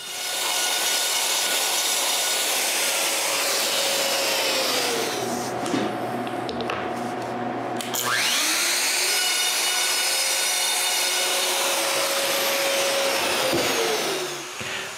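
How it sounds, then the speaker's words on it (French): A router bores holes through plywood pantry shelves to fit lights, a steady loud whine that dips briefly mid-cut and then resumes, with no talking. "avec le toupie, je perce un trou de l'épaisseur des lumières dans toutes les tablettes"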